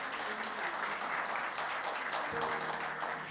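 Audience applause in a church or congregation setting, a dense steady clapping that fills the whole moment at an even, loud level without letting up.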